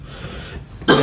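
A single cough bursts out abruptly near the end, loud and close, following a stretch of quiet room noise.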